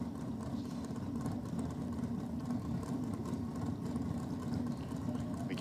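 Drag racing cars rumble steadily at a drag strip, a continuous low engine drone heard from a distance below, with no talk over it.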